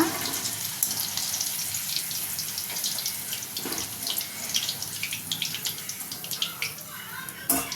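Steady running water from a kitchen tap hisses on and off in a home kitchen where chicken pakodi is being fried, a broad continuous wash with a few clinks and knocks, no talk.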